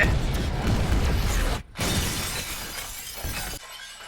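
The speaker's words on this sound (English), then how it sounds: "A lot of glass shatters straight to his face." Glass shatters loudly in a dense burst of breaking shards during the Rix Road finale of Andor, with a brief dropout before the crash continues and tails off into quieter debris.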